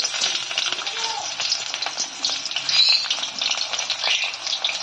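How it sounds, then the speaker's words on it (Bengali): Chopped onion sizzling in hot mustard oil in a kadai, a steady broadband hiss of frying that holds at an even, fairly loud level throughout. "কড়াইয়ের তেল আমার গরম হয়ে গেছে। এতে আমরা দিয়ে দিচ্ছি পেঁয়াজ কুচি"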